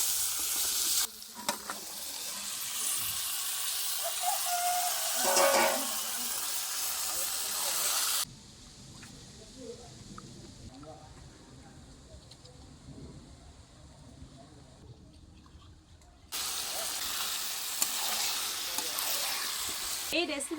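Yogurt-marinated chicken hitting hot spiced oil that has separated from the masala, a loud, close, steady sizzle and hiss that drops briefly to a quieter crackle before roaring back.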